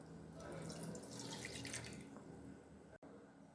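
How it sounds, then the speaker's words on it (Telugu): Water poured from a small height into about half a glass of milk in a pan while making masala tea: a steady splashing pour for roughly two seconds, then a quieter trickle, soft and close with no talking. "దీంట్లోనే కొద్దిగా నీళ్ళు అనేది పోస్తున్నాను."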